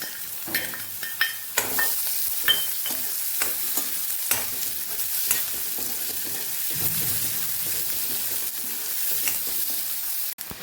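Thinly sliced onions frying in a pan with cloves, cinnamon, bay leaf and peppercorns for panchratna dal, a steady close sizzle punctuated by occasional spatula scrapes and taps.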